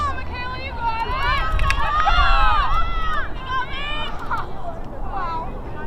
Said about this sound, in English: As her teammates cheer her on.